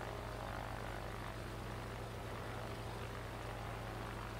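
Arado Ar 80 propeller fighter in the World of Warplanes video game, a steady, loud engine drone with a low propeller hum holding constant throughout, with no talking.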